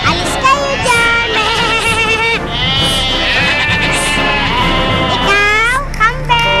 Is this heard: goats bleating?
yes